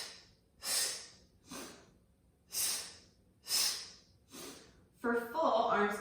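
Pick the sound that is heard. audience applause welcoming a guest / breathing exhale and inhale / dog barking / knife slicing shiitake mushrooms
breathing exhale and inhale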